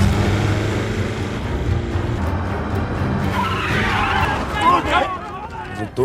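Cars skid during a car chase in the film Operation Fortune, two vehicles pursuing with loud tire squeals and engine roar rising toward the end, partly under a narrator's voice.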